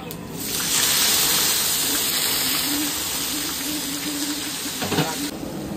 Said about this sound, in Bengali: পেঁয়াজ দিয়ে মরিচ দিলাম, তেজপাতা দিলাম, পেঁয়াজ দিচ্ছি